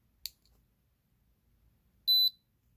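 An AVR chip programmer gives one short, clear electronic beep after finishing programming an Atmega microcontroller, preceded by a faint click, in an otherwise quiet room.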